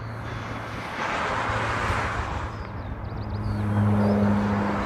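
Airplane arriving at Honolulu airport from Lihue, a steady broadband roar with a low engine hum that swells slightly toward the end, heard at moderate distance under outdoor wind.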